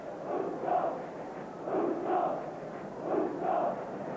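Football crowd chanting behind the Leeds goal at a 1975 European Cup quarter-final against Anderlecht, a distant, muffled rhythmic chant rising and falling in three repeated phrases.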